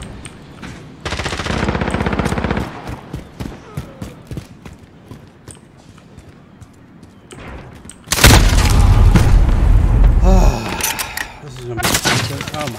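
Call of Duty MW gunfire: sharp bursts and scattered shots, with a heavy, loud barrage and explosive booms in the middle, then further shots near the end, over game sounds and someone talking.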